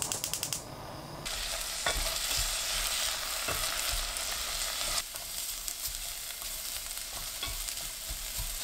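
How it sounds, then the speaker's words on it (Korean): Burdock is stir-fried in perilla oil in a pot over medium heat, a constant bright sizzle with the scrape of the stirring spoon and occasional clinks against the pot, and no talking. "냄비에 들기름 2큰술, 우엉 넣고 중불로 5분 볶아주세요."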